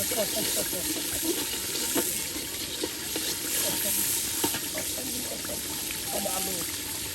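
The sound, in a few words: masala with turmeric, chili, onion being sautéed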